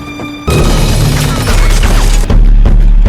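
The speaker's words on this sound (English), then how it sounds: "Nikki immediately smashed the car window." A car window is smashed at a red light by a woman in a moving vehicle: a sudden loud crash bursts in, followed by scattered debris rattling over a heavy engine rumble, then another loud impact near the end.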